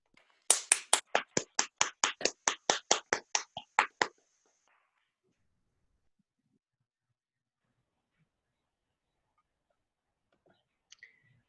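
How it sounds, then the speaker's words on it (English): A run of about sixteen crisp, evenly spaced claps, close and fairly loud, from an awards-event crowd honouring nominees at a tribute to exceptional women; it stops abruptly after a few seconds and near silence follows. "everyone have a clap for our exceptional nominees"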